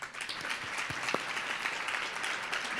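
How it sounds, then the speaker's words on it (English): An audience at an arts fundraiser in Tulsa gives steady, even applause, a continuous close crackle of many hands clapping, with a few brief voices poking through. "Please give yourself a hand of applause."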